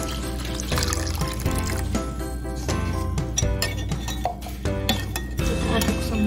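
Water, 500 ml, pours steadily into a pudding mixture of palm sugar, coconut milk, sugar and salt. The liquid splashes loud and close, and light clinks of the container sound throughout.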